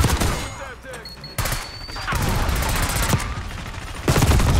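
Gunfire from an AS VAL suppressed rifle in the Black Ops 6 video game, with bursts of shots and game effects mixing through a busy firefight, louder near the end.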